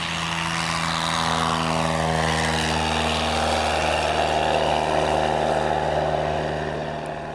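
A big-tire backcountry propeller aircraft on short final makes a loud, steady engine drone with a strong propeller hum that swells and slowly fades as it passes.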